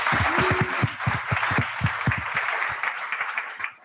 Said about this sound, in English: Let's give these 4 a round of applause.